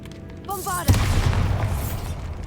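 A Bombarda blasting spell goes off in Hogwarts Legacy inside a tomb: one sudden loud boom with a deep rumbling tail that fades slowly, following a short spoken incantation.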